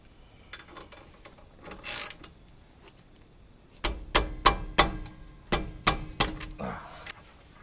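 Brake caliper bolts being loosened with a ratchet on a fifth-generation Toyota 4Runner, heard as a series of sharp, evenly spaced clicks close up. A few quieter metallic handling sounds come first.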